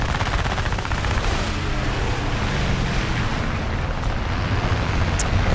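Aircraft machine guns in War Thunder air arcade battle, a continuous loud roaring rattle of rapid fire blended with engine drone, sustained without pause, no speech.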